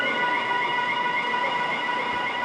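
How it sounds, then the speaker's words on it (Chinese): A test-course alarm sounds steadily at a motorcycle road test, a continuous tonal wail held for the whole stretch with no voices. "警报声就响起来，随风扣分。"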